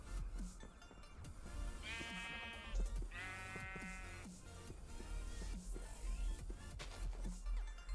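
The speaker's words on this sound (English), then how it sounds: "I see a sheep." Minecraft sheep bleat in the IsolationCraft modpack, two wavering bleats in quick succession over busy game background sounds and footsteps, moderately close.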